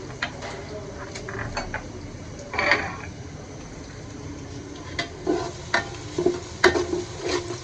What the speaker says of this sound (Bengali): পেঁয়াজটা আমি একটু ভেজে নেবো তারপরে বিরিয়ানি মশলা দিয়ে নিয়েছি স্বাদ মতো লবণ